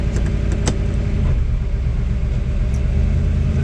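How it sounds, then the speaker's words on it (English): The 428 Cobra Jet V8 of a 1969 Ford Torino Cobra Fastback with a C6 automatic gives a loud, steady, deep rumble from inside the car during a test drive, with faint clicks over it. "take that test drive in that beautiful 69 Ford Torino Cobra Fastback"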